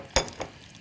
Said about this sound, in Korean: 그래서 이렇게 해서 넣고 이제 저어주세요